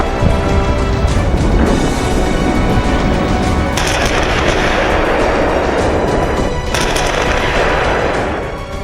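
Rockets fired by Hamas from the Gaza Strip: a loud, continuous roaring blast with dense crackling bursts that swell midway and fade at the end, with no voices.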